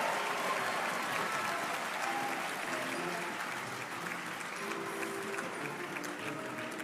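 Applause fills the hall at the university investiture of a new Vice-Chancellor at KNUST, a steady, moderately distant ovation from a large crowd with faint tonal sounds drifting underneath.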